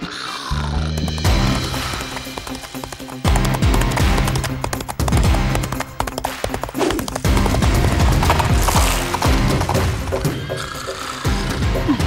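Rhythmic hooves clip-clop loudly and continuously over a dense, busy background, with a brief pause near the start.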